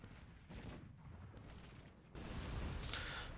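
Cannon fire and battle noise from the strategy game Cossacks 3, with artillery on a hill shelling enemy guns and troops; repeated booming bursts swell into a louder continuous barrage in the second half.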